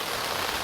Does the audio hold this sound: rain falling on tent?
yes